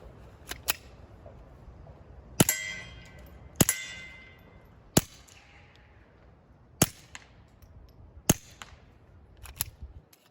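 Sharp, fairly quiet pops from a small-caliber gun, about eight single shots spaced irregularly, each a brief crack with little echo.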